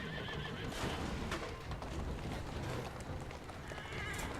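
Horse hooves clip-clop steadily with repeated neighs and whinnies while pulling a carriage in Assassin's Creed Syndicate, loud and continuous over rumbling wheels.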